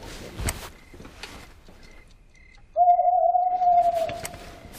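At night, an owl gives one long, steady hoot that starts abruptly after a stretch of low background noise and hangs on for about two seconds, clear and close, in a children's Christmas program.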